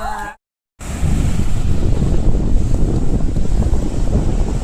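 Sea waves and wind at a beach in Mangalore, a loud, continuous wash of surf with heavy wind buffeting the microphone, following a brief moment of silence at the start.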